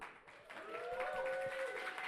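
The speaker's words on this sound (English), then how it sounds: "Give him a warm applause." A brief, steady burst of audience applause welcoming a guest, a pro skateboarder, with a thin whistle-like tone riding over the clapping for about two seconds.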